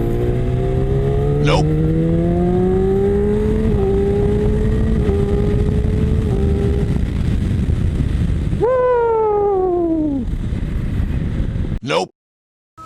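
A Yamaha YZF-R6 sport motorcycle accelerating hard through the gears from third, its loud high-revving engine whine climbing in pitch with a shift, then dropping and rising again. The engine cuts out abruptly near the end, followed by a short spoken word.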